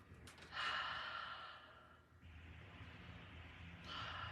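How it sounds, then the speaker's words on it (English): Slow, deep breaths taken while doing stretches seated on an airplane: a long, soft exhale, then a quieter breath in and another breath starting, faint and close, with no speech. "A couple more deep breaths."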